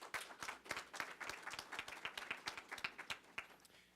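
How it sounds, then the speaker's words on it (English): An audience at an anniversary celebration for a higher education program claps, sparse, distinct handclaps with a loose irregular rhythm, fairly quiet and seemingly from a small crowd. "How about a big round of applause for that?"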